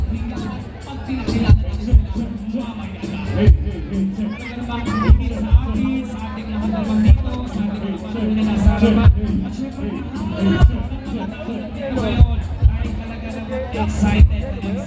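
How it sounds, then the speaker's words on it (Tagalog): Crowd at a San Miguel, Bulacan town fiesta concert cheering and shouting loudly and steadily, with repeated sharp bangs and bursts punctuating dense babble throughout. "Hiyawan!"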